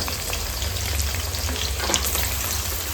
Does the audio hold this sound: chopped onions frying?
yes